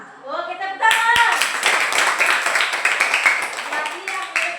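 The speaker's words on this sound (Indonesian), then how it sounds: "Oke, tepuk tangan." Classroom applause from students clapping together, dense and sustained for several seconds right after a teacher's voice, with a few voices mixed into the clatter of hands.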